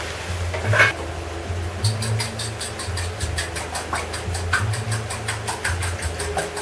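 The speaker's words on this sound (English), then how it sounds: "I'm mixing up the eggs" Eggs being mixed in a pan for machaca with shredded roast beef and onion, a sizzling wash under repeated scraping and clinking strokes in a regular rhythm, close by.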